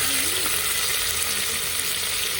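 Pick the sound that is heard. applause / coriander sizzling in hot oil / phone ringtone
coriander sizzling in hot oil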